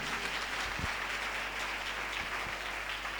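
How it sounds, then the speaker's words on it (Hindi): A church congregation claps loudly for God at a Hindi-language worship service, a dense, steady wash of applause filling the whole stretch with no voices over it. "जोरदार तालियां बजा दो प्रभु के लिए।"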